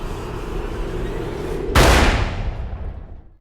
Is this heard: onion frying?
no